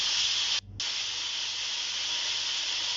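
Broccoli sizzles in hot olive oil with black pepper, a loud, steady, close hiss that drops out briefly once before resuming unbroken.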